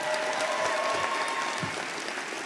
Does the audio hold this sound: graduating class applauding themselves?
yes